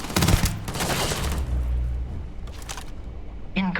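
Close gunfire rattles through a Starfield combat scene, with a dense volley at the start, sustained rumbling shots and impacts, then a final sharp burst, while a synthetic voice speaks briefly near the end.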